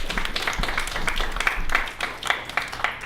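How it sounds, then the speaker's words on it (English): An audience at a business presentation claps in a busy, uneven patter of many hands that stays fairly loud and dense throughout. "So round of applause for Marty as well"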